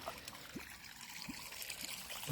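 Well water trickles and splashes softly and continuously into an onion field, with a few faint low thumps; quiet and close, no voices.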